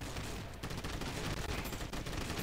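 Dense video-game gunfire aimed at a swarm of crocodiles in a swamp level, a continuous loud rattle of rapid shots with no pauses.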